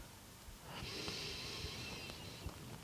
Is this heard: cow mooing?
no